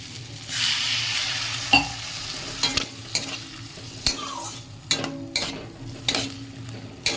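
Spice paste of cumin powder, mustard paste and turmeric fries in a pan with a continuous hiss of sizzling, while a spatula stirs and knocks against the pan in irregular scraping taps up close.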